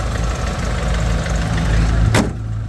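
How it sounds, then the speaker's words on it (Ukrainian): A 2013 Mercedes Sprinter 316 van's diesel engine idles steadily nearby with a low, even rumble, and a short sharp clack sounds near the end. "Чисто працює двигун, ніяких нарікань немає."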